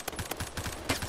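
Rapid gunfire in the video game Phantom Forces: several quick bursts of automatic shots in uneven rhythm, fairly close, with no talk over them.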